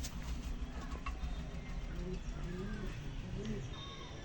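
A white pigeon coos in low, repeated throaty calls close by, with someone talking over the calls.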